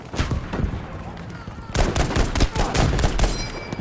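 M1 Garand rifle fire in the game Battlefield V, heard as repeated sharp, loud shots in quick succession, with a denser volley in the second half amid battlefield clatter.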